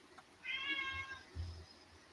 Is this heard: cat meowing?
yes